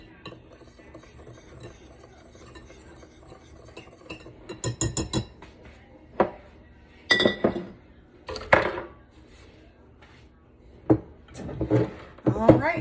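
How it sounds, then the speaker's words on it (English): A quick whisk stirs sugar, flour and baking powder inside a glass mason jar, giving several scattered bursts of clinking and scraping strokes against the glass, close and fairly loud, over a quiet background. "I'm just gonna give this a quick whisk just to make sure that the sugar and flour and baking powder isn't all in one area"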